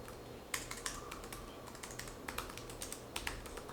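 Computer keyboard typing at a desk, a quick run of light clicking keystrokes in an uneven rhythm, close and fairly quiet with no talking.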